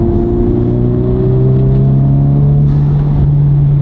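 A modified Honda Civic FL5 Type R, showing a check-engine light, holds a loud, close engine rev as a strong, steady droning tone that sags slightly in pitch, with no talking over it.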